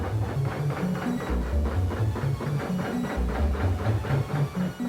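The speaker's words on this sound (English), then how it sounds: "the leather is flattened under the 10-ton pressure of a vast power hammer" An industrial power hammer flattens leather hides under ten tons of pressure in a luxury goods workshop, giving a steady, loud rhythm of repeated heavy thumps over a continuous mechanical clatter.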